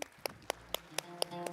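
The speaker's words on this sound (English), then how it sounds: "if we can give one final round of applause for our presenters" One person claps slowly and steadily during a live-streamed conference session, about seven distinct claps at a regular pace, faint, with a low hum underneath.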